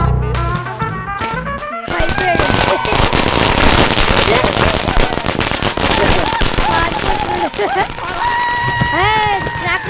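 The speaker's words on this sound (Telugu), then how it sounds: "Atom bomb, this is Lakshmi bomb, no item bomb." Diwali firecrackers, including atom bombs and Lakshmi bombs, crackle and pop densely in rapid overlapping bursts, loud and continuous, with voices and whistling sounds mixed in.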